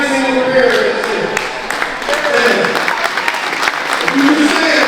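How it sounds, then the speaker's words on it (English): An audience at an inspirational talk claps for the parents in attendance, with a steady wash of clapping and crowd noise that has voices and cheers mixed in. "let's clap for every single parent that's here."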